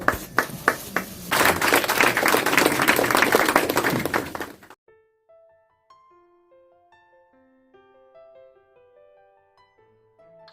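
Applause from the audience at a school STEM competition prize distribution ceremony for a consolation prize winner, a dense burst of clapping after a few separate claps, lasting about four seconds before it cuts off to quiet music.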